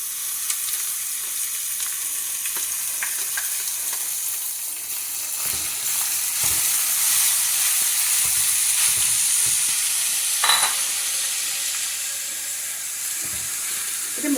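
Chopped onion fries with ground ginger and garlic paste in a pan, giving a loud, steady sizzle and hiss with occasional stirring scrapes all the way through.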